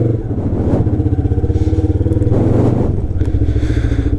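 Motorcycle riding up the Yercaud hill road in Tamil Nadu, its engine a steady close throbbing drone that rises and falls slightly with throttle, with some rattling clatter and no talking.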